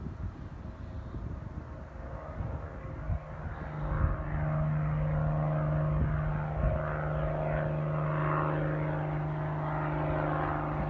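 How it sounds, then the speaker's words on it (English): A powerful single-engine airplane takes off, its engine rising to a loud steady roar with a propeller drone and a sustained tone, heard from fairly near without talk. "Has one powerful engine,"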